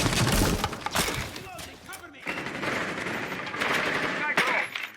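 Rapid bursts of gunfire in a competitive Rainbow Six esports match, with loud automatic volleys and single shots clustered at the start and scattered throughout, under a busy mix of game sound.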